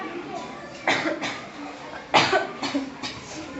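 A few short, harsh coughs in quick bursts, close by, with brief pauses between them.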